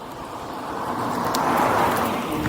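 A car drives past on a hilly road near a main road, its tyre and engine noise swelling to a peak and easing off. The pass is moderately loud, with no voices.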